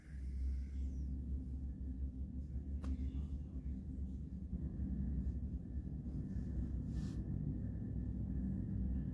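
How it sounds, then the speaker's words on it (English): A train crosses a bridge, heard as a low, steady rumble with a faint hum, continuous and somewhat distant, with brief faint knocks over it. "There's a train going across the bridge."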